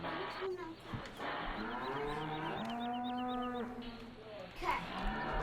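Cattle lowing in Farming Simulator 15, several long drawn-out moos following one another over a steady farm background, fairly close and clear, with a little talk underneath.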